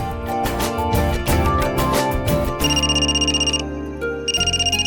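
A phone ringtone plays loudly in repeating electronic chimes, with a bright melodic pattern over a steady backing that cycles several times.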